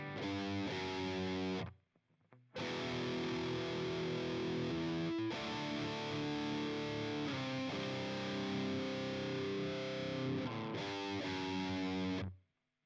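Heavily distorted electric guitar plays a riff in sustained, chugging chords, stopping briefly after the opening phrase and then ringing on steadily before cutting off near the end.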